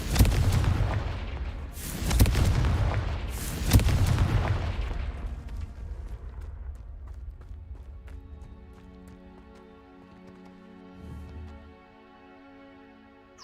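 Confringo fire spells burst in the Hogwarts Legacy video game: three loud booming explosions about two seconds apart, each trailing into a rumble, then quieter game tones and a faint later thud.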